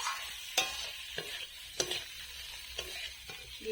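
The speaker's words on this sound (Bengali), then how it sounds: "ভালো করে কষিয়ে নেব চিংড়ি মাছ মশলা।" Prawns are stir-fried in a thick spice paste, giving soft, quiet sizzling with several sharp scrapes and clinks of a spatula against the pan at uneven intervals, close up and without speech.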